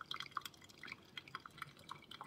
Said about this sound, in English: It's coming out the hot water.